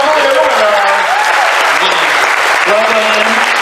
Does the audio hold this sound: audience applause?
yes